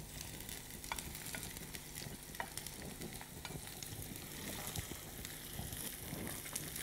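Onions, vegetables and flattened rice fry over lowered heat for chira pulao, making a soft, continuous sizzle with frequent stirring scrapes, faint and close.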